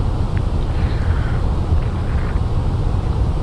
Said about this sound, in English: I think the cabin sound is a bit too loud on this plane.